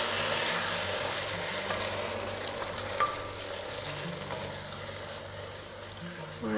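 Fresh tomatoes cook in a pan for a vegan green bean dish, a dense steady sizzle and hiss with occasional faint stirring scrapes and clinks, plus a low hum in the background.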